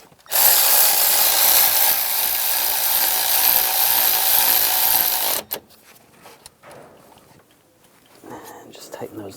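Power tool tightening bolts on the coolant crossover pipe of a 2011-2018 Ram 1500, a loud continuous whirring burst of about five seconds that stops abruptly, followed by quieter clicks and handling noises.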